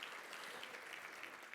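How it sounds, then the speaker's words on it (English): A crowd at a chamber of commerce awards celebration applauds itself, a dense, even patter of many hands that holds steady and fairly distant throughout. "go ahead, clap for yourselves"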